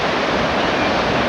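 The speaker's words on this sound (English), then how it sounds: "The waves are really quite a ways up here now" Ocean surf on a North Carolina beach near high tide, a loud, constant roar of breaking waves washing up toward the sand dunes, with no distinct breaks.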